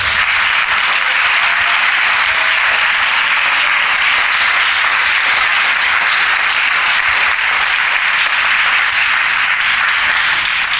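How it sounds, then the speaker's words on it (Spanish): Loud, sustained applause from a church congregation, a dense unbroken wash of clapping that holds steady at full volume throughout. "Denle un fuerte aplauso al Señor"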